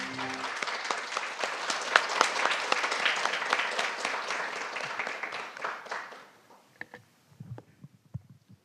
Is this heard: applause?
yes